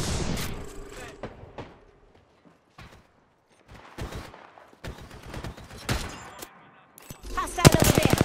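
Gunfire in Apex Legends comes in scattered bursts of rapid shots, some loud and close, separated by quiet gaps, with the bursts growing denser toward the end.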